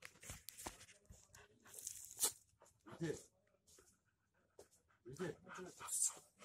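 Close, rapid panting of a pregnant pit bull in quick bursts with rustling sounds, broken up by short pauses.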